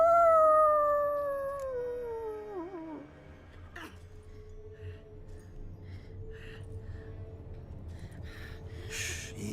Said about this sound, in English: You can hear them howling in the distance, you know?